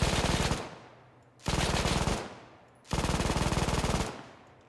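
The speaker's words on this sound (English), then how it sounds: "that MG42 recoil" An MG42 machine gun fires in three long, rapid bursts in the World War II shooter ARMA 3, each loud and close with a ringing tail between bursts.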